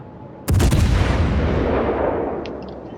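A single loud, close cruiser gun salvo booms in the World of Warships naval game, its rumble slowly fading over a couple of seconds, followed by faint small impact pops.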